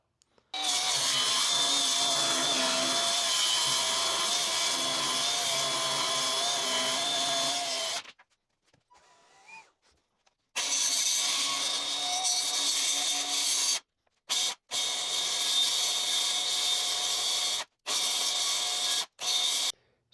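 A power saw cuts a back bevel in wood, its loud, steady whine running in long passes broken by brief pauses and short stop-start bursts near the end.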